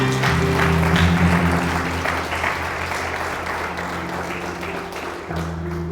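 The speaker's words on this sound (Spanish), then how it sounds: "Aplauda al Señor en esta." A church congregation claps together in sustained, dense applause over held musical tones, loud at first and easing slightly while the music continues, with no talking.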